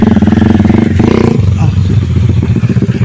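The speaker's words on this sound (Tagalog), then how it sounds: "So hirap na yung motor ko." Rusi Gala motorcycle engine laboring loudly up a steep mountain road toward Mount Parawagan in Rizal, a steady close mechanical drone with rattling clatter throughout.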